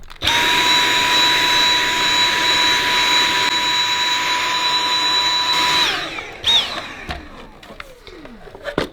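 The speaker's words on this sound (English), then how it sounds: "So for this, I'm just going to use the vacuum cleaner." A vacuum cleaner gives a loud, steady motor whine with a high-pitched tone for about six seconds while cleaning a Dyson AM07 tower fan, then cuts off and winds down, followed by quieter handling noises.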